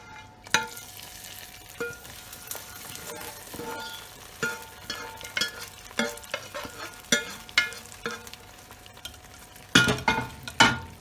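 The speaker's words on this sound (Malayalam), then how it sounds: "അതിലേക്ക് നമ്മൾ വറുത്ത് വെച്ച അണ്ടിപ്പരിപ്പ് മുന്തിരി ഇട്ട് കൊടുക്കാം" Fried cashews and raisins stirred into rava kanji (Ramadan thari kanji), with a spoon clinking and scraping the pot in repeated strokes over a soft background sizzle, close and fairly quiet.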